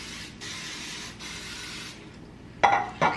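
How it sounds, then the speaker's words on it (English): Non-stick cooking spray hisses from an aerosol can onto a baking pan for mini pineapple upside-down cakes, in two sustained bursts separated by a brief pause, followed by a couple of sharp clinks as the pan is handled. "so I'm gonna spray it with some non-stick spray."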